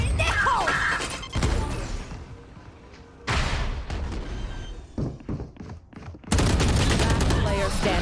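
Rapid bursts of video game gunfire and explosions come in loud, dense volleys, cutting off and returning in several waves, with voices talking over parts of the action.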